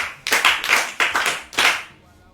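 An audience at a Yoruba children's programme gives a child a short round of applause, about four crisp bursts of hand clapping, close and fairly loud, with no voices.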